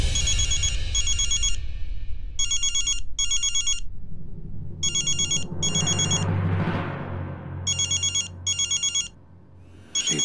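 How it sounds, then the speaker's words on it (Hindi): A telephone rings with an electronic ringtone, repeated short bursts of trilling tones in a steady pattern, loud and close, over a low background bed of music. "रेवती जी का फोन।"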